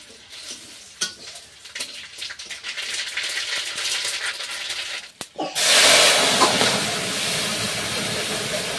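Mustard seeds, bay leaf, green chilli and onion hit hot oil in a pan for a Bengali crab dish, giving a faint frying crackle that swells into a loud, steady sizzle and hiss partway through.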